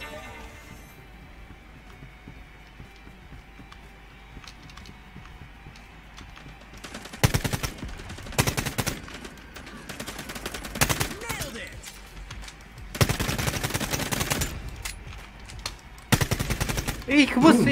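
Gunfire in the sci-fi shooter game Quantum League: bursts of rapid automatic fire starting after a quiet stretch, loud and close, repeating in several volleys with brief pauses between, with a voice talking at points.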